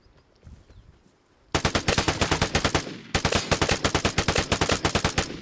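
Automatic gunfire in a video game: rapid machine-gun bursts erupt after a quiet start, a loud sustained rattle, a brief pause, then another long burst close up.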